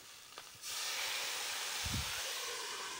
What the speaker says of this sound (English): We've got our wine open, so we're just going to put a little wine in.